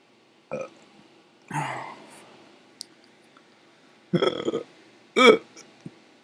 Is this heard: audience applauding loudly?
no